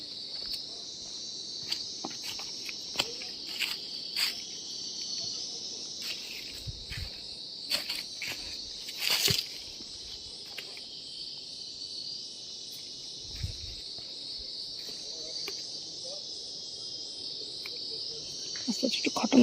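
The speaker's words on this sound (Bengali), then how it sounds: "যে এরকম ডাউন জঙ্গলের ভেতরে ঝিঝি পোকার ডাক শুনতে শুনতে যেতে হবে" Crickets chirp in a dense, unbroken high trill along a forest trail on the Annapurna Base Camp trek in Nepal, between Komrong and Chhomrong, with occasional faint footsteps and rustles underneath.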